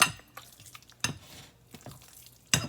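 Cooked beans are gently folded into ground turkey for a Southwestern-style meatloaf. A spoon makes soft, close, intermittent squelching and scraping sounds, with a few sharper bumps against the bowl.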